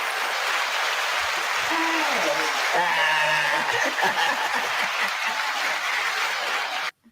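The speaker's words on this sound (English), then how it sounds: "I don't know if y'all heard all those applause, but I did." Studio audience applause in a podcast studio: a dense burst of clapping with some chuckles and whoops, holding steady for several seconds before cutting off abruptly.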